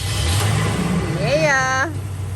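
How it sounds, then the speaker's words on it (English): A car engine during a jump start runs at a low idle, then rises in a brief rev with a sweeping upward pitch before settling back down, loud and close. "Start the running vehicle."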